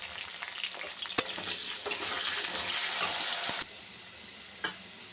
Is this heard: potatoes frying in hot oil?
yes